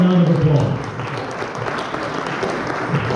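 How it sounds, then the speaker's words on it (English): Audience at a congressional district convention debate applauding the candidates, a short burst of clapping with a voice briefly heard at the start. "Let's give you all a round of applause."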